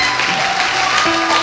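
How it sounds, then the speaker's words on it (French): A church congregation applauds together during a French-language worship service, a steady wash of clapping that fills the room at a fairly even level without any clear talk. "Nous acclamons Jésus"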